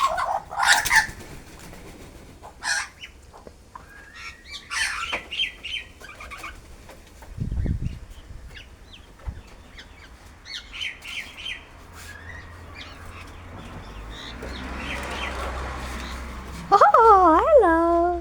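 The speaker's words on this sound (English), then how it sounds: "Whoa, so many birds." A large flock of wild Australian birds calls out in repeated chirps and sharp whistling notes, with occasional wing flaps and a thump, quiet at first and then louder toward the end.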